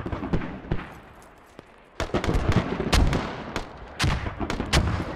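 Mortar rounds land in the video game Squad as a run of loud, booming blasts and sharp cracks. A short lull is followed by repeated heavy impacts that sound close and rumbling.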